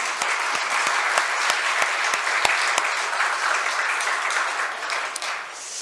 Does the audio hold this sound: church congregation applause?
yes